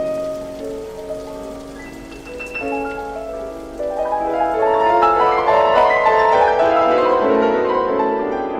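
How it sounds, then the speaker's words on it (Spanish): Raindrops patter steadily on roofs and drip from the eaves in a radio drama sound effect, a dense close shower swelling louder partway through, with soft music underneath. "las gotas de lluvia modulaban su alegre sinfonía, escurriéndose rápidas por el alero de los tejados"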